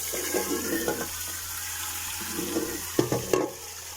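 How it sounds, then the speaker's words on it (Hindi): Tap water runs and splashes into a container as it is filled, with clattering handling sounds and a couple of sharper knocks toward the end. "हम पानी भर लेते हैं।"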